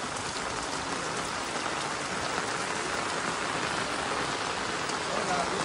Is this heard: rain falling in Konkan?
yes